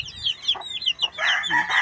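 Hens and newly hatched chicks at a backyard farm: rapid high-pitched peeping from the chicks mingles with soft, low hen clucks in a busy, close chorus that swells louder toward the end.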